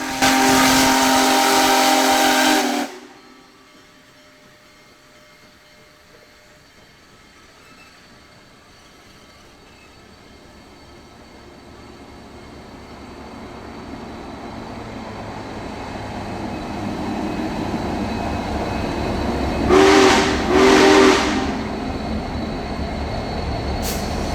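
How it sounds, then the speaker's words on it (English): Union Pacific Big Boy 4014 steam locomotive, paired with three diesels, rolls into the town of Tamaqua, Pennsylvania; a loud burst opens, then a long low rumble of the train builds steadily, with brief whistle-like blasts near the end. "we get a low-angle shot of 4014 and the 3 diesels. The train is entering the town of Tamaqua."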